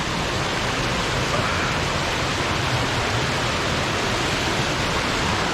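A river along the Loyalsock Trail rushes with a constant, dense broadband roar, close and loud, unchanging throughout with no voices over it.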